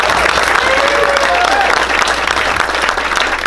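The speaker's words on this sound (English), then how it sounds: "I'm gonna let him get his applause here." Applause from attendees after a keynote speaker at a community meeting: a dense, continuous patter of many hands, loud and even throughout, with a brief whistle-like tone early on.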